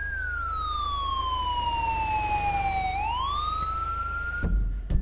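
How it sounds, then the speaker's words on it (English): A wailing ambulance siren in Grand Theft Auto V sweeps loud and close, its pitch gliding down and then back up as it passes, ending with a few brief clunks. "Let this ambulance get by us here."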